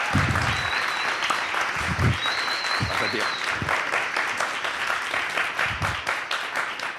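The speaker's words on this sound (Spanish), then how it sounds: "pido un fuerte aplauso para Raúl López" An audience at a live comedy monologue breaks into loud sustained applause, dense clapping filling the whole stretch, with a brief spoken word and a whistle-like tone over it.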